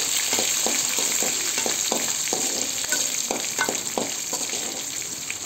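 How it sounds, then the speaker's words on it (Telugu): Cumin, coriander seeds and chana dal fry steadily in hot oil, a continuous close sizzle with light crackles and occasional stirring clicks throughout, no voices. "చక్కగా వేయించుకోవాలండి."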